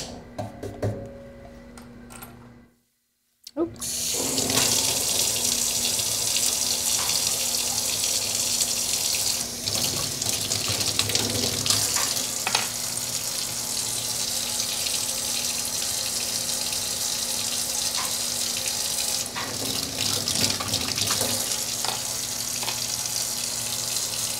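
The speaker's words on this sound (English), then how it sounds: "Just a little scrubby scrub with some soap and water." Tap water runs into a sink while something is scrubbed with soap: a steady, loud splashing rush continues for the whole stretch after a brief silent gap, with small clinks and scrubbing textures over it and no talking.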